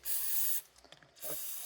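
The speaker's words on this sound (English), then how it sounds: "spray some starting fluid" Two bursts of hissing aerosol starting fluid spray, each about half a second, separated by a short pause with faint handling clicks.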